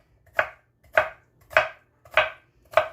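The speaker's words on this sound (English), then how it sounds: "I'm just going to chop my cucumber" A knife chops a cucumber on a cutting board in five crisp, evenly spaced strikes roughly half a second apart, close and clear with nothing else around.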